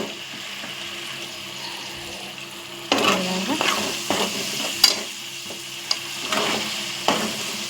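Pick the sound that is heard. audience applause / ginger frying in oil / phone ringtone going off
ginger frying in oil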